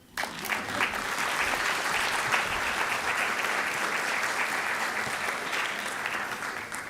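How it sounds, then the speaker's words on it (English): An audience at an AGM breaks into applause, a sustained, even roar of many hands clapping that starts abruptly and holds for several seconds before easing slightly. "A round of applause."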